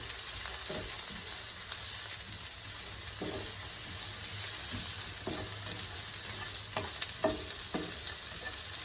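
Onion sautéing in a pan over medium-high heat for broccoli and sausage, an even close sizzle with occasional spoon scrapes and light taps, no voices.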